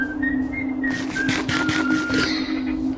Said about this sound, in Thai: มันผิวปากละ